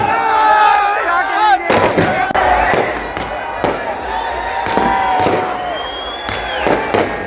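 Fireworks and firecrackers crackle and bang repeatedly over a cheering crowd at a street celebration of an Indian cricket team win in Jammu, with whistling rockets and voices shouting throughout.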